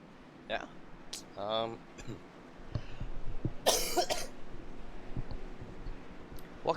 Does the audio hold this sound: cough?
yes